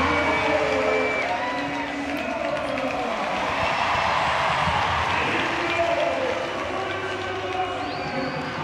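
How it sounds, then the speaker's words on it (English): Large stadium crowd at CenturyLink Field in Seattle applauding and cheering during a U.S. Women's National Team soccer match against Brazil, a steady roar of clapping and voices throughout, with an announcer's voice talking over it. "Amazing applause for Carly Lloyd and Hope Solo."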